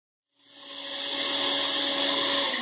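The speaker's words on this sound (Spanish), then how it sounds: "así que yo nada más voy a licuar estos ingredientes" A blender starts after a short silence and quickly ramps up to a loud, steady motor whir while blending mole sauce ingredients, heard close with no talk.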